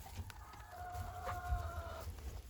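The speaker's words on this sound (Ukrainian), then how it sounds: "Боже, як кури розпівалися" Hens cluck and a rooster crows in a long, drawn-out call, with steady low farmyard rumble underneath; fairly close, no talking.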